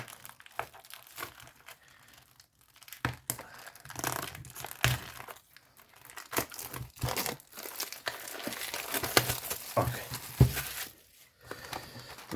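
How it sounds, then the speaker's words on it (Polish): Plastic foil wrap is torn open and peeled away by hand, giving close, crisp crinkling and ripping in irregular bursts with short quiet gaps between them. "Dobra, tą folię rozpakujmy."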